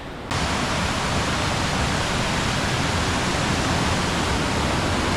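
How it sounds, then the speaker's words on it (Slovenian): The Peričnik mountain stream in the Julian Alps rushes just above Peričnik waterfall, a steady, loud, broadband roar of churning water that begins abruptly and continues without a break, close by, with no voices. "Evo, potok Peričnik nad Slapom Peričnik."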